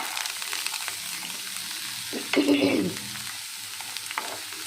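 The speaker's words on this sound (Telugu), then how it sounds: "వీటిని కొంచెము మనము నూనెలో ఫ్రై చేసేసుకోవాలి దోరగా వేగించుకోవాలి" Cut vegetable pieces frying in a little oil in a pan, a steady close sizzle with a brief louder stirring scrape in the middle and no talk.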